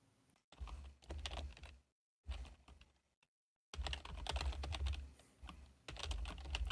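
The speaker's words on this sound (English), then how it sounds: "I can hear Tony typing." Someone types on a computer keyboard in quick clattering bursts broken by brief silent gaps, heard faintly over a slightly fuzzy microphone during an online chat.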